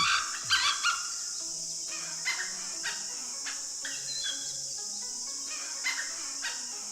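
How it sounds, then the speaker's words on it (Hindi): A jungle fowl gives a repeated alarm call in short sharp notes against a steady buzz of insects, with a few other chirps scattered around in open outdoor forest ambience in the Nilgiri Biosphere. "एक जंगली मुर्गे ने बाघ की मौजूदगी की चेतावनी दी"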